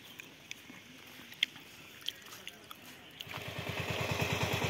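A tractor is brought into a small Konkan paddy field to churn it into mud. After a quiet stretch of faint background noise, its diesel engine starts up with a low, rhythmic chugging that grows steadily louder.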